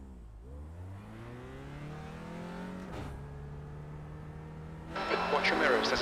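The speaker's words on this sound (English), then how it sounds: "Watch your mirrors, there's a car approaching." In a racing simulator game, an engine drones at a steady pitch before a car approaches with a rising whine, then a louder rush of engine and tire noise swells near the end.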